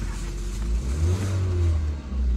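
A Hummer H1 engine turns over and settles into a deep, rumbling idle with a slight rev, steady and fairly close.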